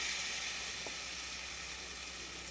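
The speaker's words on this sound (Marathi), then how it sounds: "तेलामध्ये छान परतू द्यायचं याला" Turmeric and raw tomato purée sizzle steadily in hot oil, a continuous close hissing fry with no talk.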